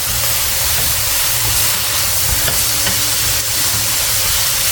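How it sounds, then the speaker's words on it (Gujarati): Carrots and sugar cook down in a pan as the water evaporates, giving a dense, even hissing sizzle with a faint bubbling texture, close and unbroken, with no voices. "હવે ખાંડનું પાણી થાય અને જ્યાં સુધી બળે ને ત્યાં સુધી એકદમ બાળી નાખવાનું પાણી."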